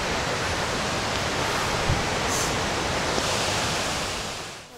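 A waterfall in Ingushetia in the North Caucasus, heard as a steady, broadband roar of rushing water that stays loud and even throughout, fading slightly at the very end.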